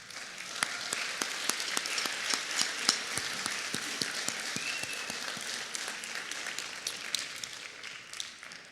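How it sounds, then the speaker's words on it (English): Steady applause from a school spring concert audience fills the hall, dense clapping with sharper individual claps standing out, fairly distant and even throughout. "Let's give all those people a round of applause"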